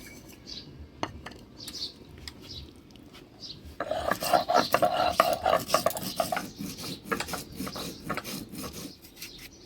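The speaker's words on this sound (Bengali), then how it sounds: "প্রথমে আমি আদা আর জিরা একসাথে বাইটে নেব" Ginger and cumin being ground together on a grinding stone, with soft scattered taps at first, then a few seconds of steady back-and-forth rasping strokes, close and fairly loud.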